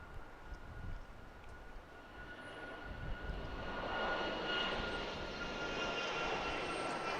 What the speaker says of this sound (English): 737 MAX 8 departing on runway 13 left.